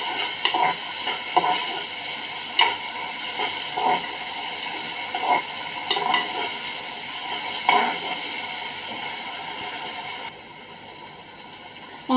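Onions and ginger-garlic paste fry for chicken biryani in a steady, close sizzle, with frequent clinks and scrapes of stirring throughout; no one speaks.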